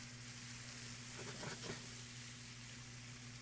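Frozen cut corn sizzles in a hot pan, a quiet, even frying hiss with a brief burst of crackle and stirring midway, under a low steady kitchen hum and without talk.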